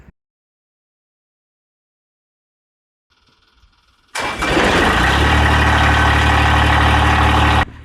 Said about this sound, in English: As I wait for my tractor to warm up